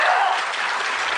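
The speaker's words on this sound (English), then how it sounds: "don't give him applause." A short burst of audience applause during a live comedy podcast taping, brisk and dense clapping from a crowd lasting about a second.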